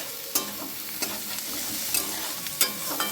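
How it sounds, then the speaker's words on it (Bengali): Onions sizzle in oil with turmeric, destined for a potato and prawn dish, while a spatula stirs them. A steady close frying hiss is punctuated every half second or so by sharp scraping clacks against the pan. "পেঁয়াজ ভাজার একটু একটু একটু ভাজা হয়ে গেলে আমি হলুদটা দিয়ে দিই"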